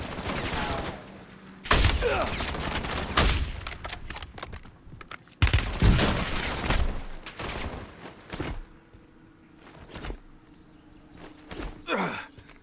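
Call of Duty Warzone gunfire: bursts of rapid shots crack out in clusters across the clip, loud and close, separated by brief lulls with background game noise.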